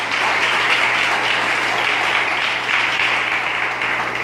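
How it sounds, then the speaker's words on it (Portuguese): Congregation at a church service applauds for Jesus, dense sustained clapping that fills the room evenly for several seconds with a low steady hum underneath. "Dê um aplauso a Jesus."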